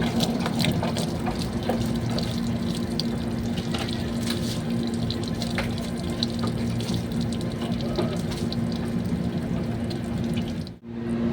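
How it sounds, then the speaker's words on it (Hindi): Water splashing and pouring continuously over a car, thrown from a bucket in a rough homemade wash, steady and fairly loud with a brief dip near the end. "पानी फेंकने के लिए हम देसी स्टाइल का इस्तेमाल करेंगे।"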